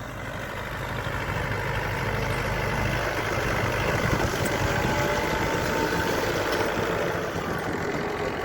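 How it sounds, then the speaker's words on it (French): A tractor pulling a horizontal mulcher through a vineyard to destroy the cover crop every other row makes a loud, steady engine drone mixed with a continuous grinding rumble, unbroken throughout. "Donc destruction du couvert un rang sur deux avec un broyeur horizontal."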